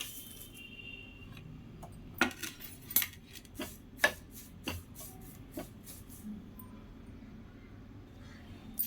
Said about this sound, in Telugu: ఇప్పుడు కరివేపాకు వేయించుకుందాం. నూనె ఏమీ అవసరం లేదు, ఇట్లానే వేయించుకోవాలి.